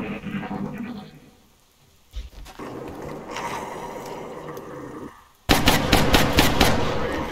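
Rapid bursts of gunfire in the video game XCOM Long War, a rooftop firefight: loud clattering volleys broken by quieter gaps, ending in a sustained, dense stretch of shots.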